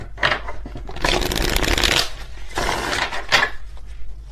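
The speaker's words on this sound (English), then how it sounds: "Let's do one more shuffle just in case." A deck of tarot cards shuffled by hand in quick riffling bursts, two longer passes and a short final flick, crisp and close with no voices.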